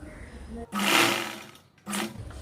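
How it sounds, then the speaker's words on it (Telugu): A sewing machine runs in two close bursts, stitching a double-folded hem on a dress top, the motor whirring steadily for about a second, pausing briefly, then starting again. "దీన్ని కూడా ఇలా డబుల్ ఫోల్డ్ వేసుకుని కుట్టు వేసుకోవాలి."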